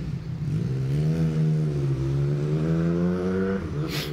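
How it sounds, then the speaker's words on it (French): A motorcycle passes by up close with a loud, sustained engine drone whose pitch shifts slightly as it moves past, filling the whole moment with no talk. "je laisse cette moto passer parce que c'est horrible"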